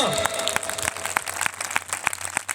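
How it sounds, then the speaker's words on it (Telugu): A crowd at a gathering claps loudly and continuously, a dense wash of hand claps with a few sharper individual claps standing out, while a voice talks faintly over it. "మీరు కొట్టే చప్పట్లు మీకు వినపడుతున్నాయా?"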